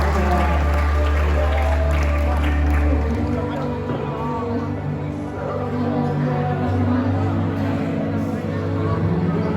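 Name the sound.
audience applause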